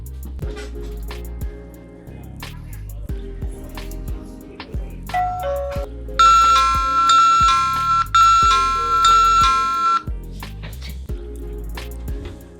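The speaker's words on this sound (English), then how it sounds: "It's going to hopefully make this chime go off" A Uniview ED-525B-WB wireless doorbell chime plays a loud melodic electronic tune indoors, a series of bright ringing notes that swell into a sustained high chiming passage before fading, heard alone without talking.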